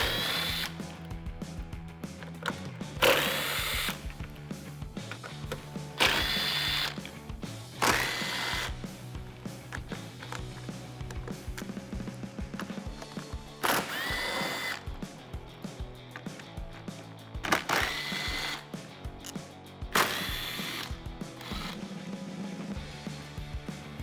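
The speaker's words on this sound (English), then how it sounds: "I'm just going to use my 10mm on a small impact and remove all 7 of them" Small impact wrench with a 10mm socket removing the seven screws of a trim bracket on a 2015–2017 Ford F150, delivering repeated loud, short rattling bursts separated by pauses, close by, with quieter mechanical handling in between.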